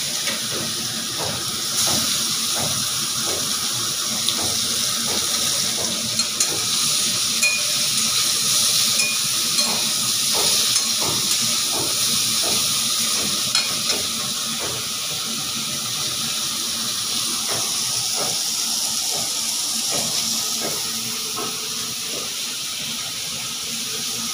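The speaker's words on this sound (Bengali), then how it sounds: "মাছ ভাজার তেলেই আমি উচ্ছেটা ভেজে নেব" Bitter gourd fries in oil left over from frying fish, giving a continuous hissing sizzle close by, punctuated by repeated light knocks and scrapes of stirring.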